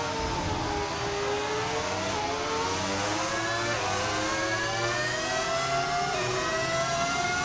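V10 engine of a Formula 1 race car in the F1 25 game, a high-pitched sustained scream with rising gear pulls, loud and steady with no talk.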